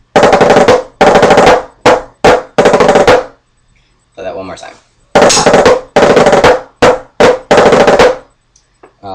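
A snare drum plays the Assembly rudiment: bursts of rapid strokes broken by flammed accents, loud and close, repeated twice with a short spoken remark in the pause between.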